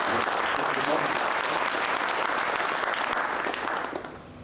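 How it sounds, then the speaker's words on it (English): Sustained applause from an audience at an online rental industry summit, a dense steady wash of clapping that holds at full level for about four seconds before easing off at the end. "So also for them a big applause for this."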